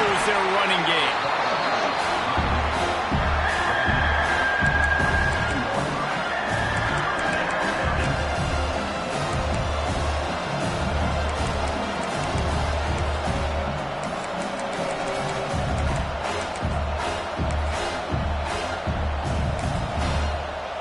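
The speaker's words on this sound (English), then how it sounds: "This crowd, full throat, splitting the eardrums and letting them know it's going to be a long day" A packed stadium crowd at a South Carolina vs Texas matchup in the video game College Football 26 roars loudly and continuously, a dense wall of cheering with announcer commentary spoken over it.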